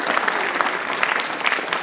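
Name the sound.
audience applause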